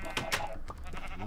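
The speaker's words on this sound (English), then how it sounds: "Okay, sheep." Sheep bleat in the Minecraft video game, two short nasal bleats near the start over a busy background, then quieter mixed game sounds.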